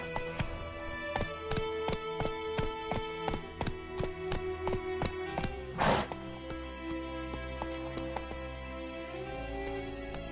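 Roach, a horse in The Witcher 3, gallops in a steady rapid clip-clop of hooves, loud and close over a constant game backdrop, with a brief swell of noise midway.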